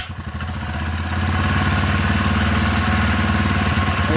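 A small 4-stroke engine with a newly fitted throttle cable catches and settles into a loud, steady, rhythmic chugging idle, close by.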